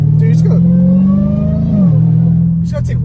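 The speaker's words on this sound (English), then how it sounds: "this car sounds freaking amazing" Catless Dodge Challenger Hellcat Redeye V8 holds a loud, steady, close drone at highway speed with a brief pitch dip near the end, with talk heard over it.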